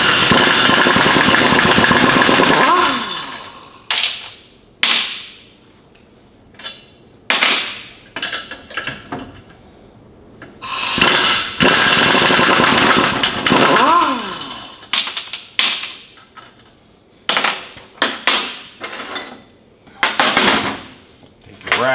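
Pneumatic impact wrench with a 9/16 socket removes bolts from an air dryer bracket on a 1984 Peterbilt cabover truck, loud close rattling bursts repeating in short spurts separated by quiet gaps.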